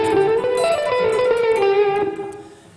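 Electric guitar closing out a blues solo with a short run of quick descending single notes and slides, slightly overdriven, up front and unaccompanied, tapering off into a decay.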